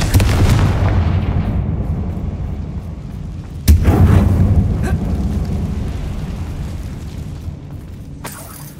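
Confringo blasting spell explosion in Hogwarts Legacy inside a goblin mine, a loud opening blast that decays away, then a sharp second impact with a rumbling tail and a faint later crack.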